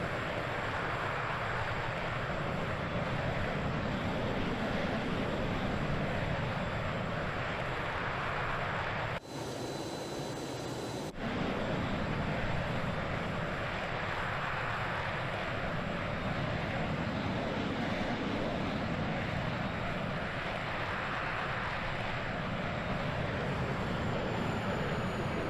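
Boeing B-52 Stratofortress in flight in Microsoft Flight Simulator 2020, a steady loud broadband engine and wind roar that holds throughout, briefly cutting out for a moment midway.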